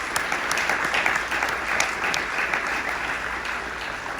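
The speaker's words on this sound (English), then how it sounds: "let's give them a round of applause somewhere in the back" An audience at a mayoral forum applauds committee members standing as event sponsors, a full continuous round of clapping with a few sharp individual claps standing out, fairly close and even in level.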